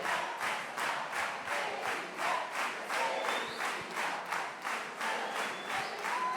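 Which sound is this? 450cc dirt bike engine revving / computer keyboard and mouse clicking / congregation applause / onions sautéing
congregation applause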